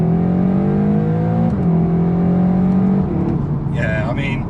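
Tuned ABT Seat Leon Cupra R with 350 bhp pulls hard through second gear, a loud steady engine drone rising in pitch for about three seconds before a brief dip, then continuing under a bit of talk.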